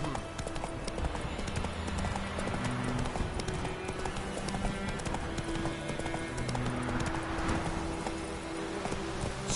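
Roach, the horse in The Witcher 3, gallops with a steady, continuous clip-clop of hooves under layered game ambience, loud and close throughout.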